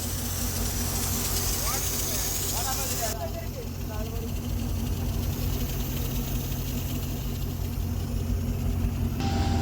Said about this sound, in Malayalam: അപ്പോൾ അവരുടെ ആ ഒരു വള്ളം ഞാൻ ഓടിച്ചുകൊണ്ടിരിക്കുകയാണ്.